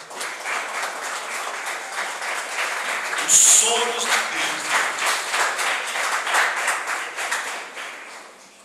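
A church congregation applauds the name of the Lord, steady clapping sustained throughout while a preacher keeps speaking over it.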